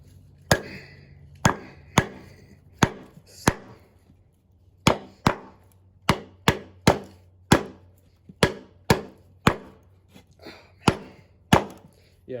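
A knife batoned through very hard wood during a field test of a Mossy Oak stag-finish blade: about twenty sharp, loud wooden whacks in an uneven rhythm, each with a short ringing tail, close by and with no talk over them.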